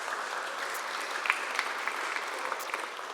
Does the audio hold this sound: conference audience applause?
yes